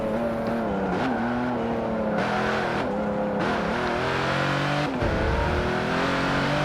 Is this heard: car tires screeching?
yes